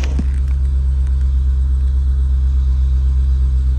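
A U-Haul truck's heavy low rumble while driving, a loud, constant engine and road drone heard from close up, steady throughout with no talking.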